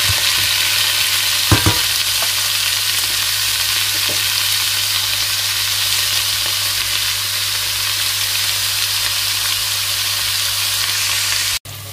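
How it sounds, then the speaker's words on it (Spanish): Onion sizzles and fries steadily in hot oil in a pan while being stirred, a constant close crackling hiss with a couple of brief scraping clicks from the utensil. "Aquí ya se está sofriendo todo muy bien."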